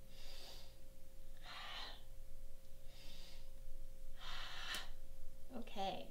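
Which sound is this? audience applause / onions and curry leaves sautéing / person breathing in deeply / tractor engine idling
person breathing in deeply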